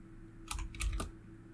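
Several quick clicks on a computer keyboard while a project name is typed, a short burst of keystrokes close by in an otherwise quiet room.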